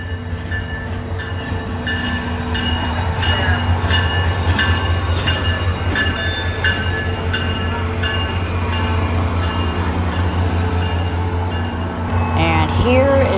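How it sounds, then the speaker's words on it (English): A SunRail commuter train rolls into a station in Orlando, Florida, a loud steady rumble with rhythmic wheel clatter and brake squeal near the end. "Here's the last train of the day pulling into the station."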